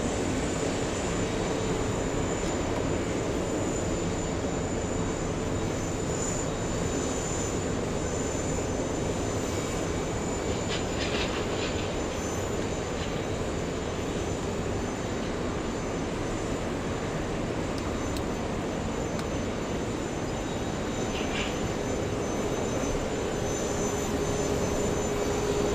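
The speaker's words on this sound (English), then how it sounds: "South Korean A380 lining up on runway 22 right." A South Korean Airbus A380 jet lines up for takeoff on runway 22 right at JFK, producing a continuous loud engine rumble and hiss that stays constant, with faint higher whines now and then.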